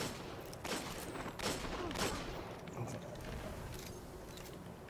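Rapid bursts of hand cannon gunfire in the video game Destiny 2, with several sharp shots clustered over a noisy background of game effects, fairly close and moderately loud.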